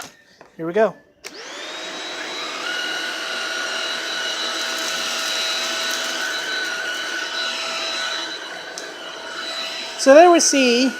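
A Shark Rocket Complete cordless vacuum with a soft roller brush spins up and runs with a steady loud whine, pulling up a small nut from the floor. A person speaks briefly before it starts and again near the end.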